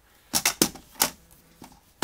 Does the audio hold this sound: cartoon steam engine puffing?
no